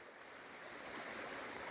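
A river in Scotland rushing steadily near a chapel ruin, a constant broad wash of flowing water with no breaks, fairly close and alone.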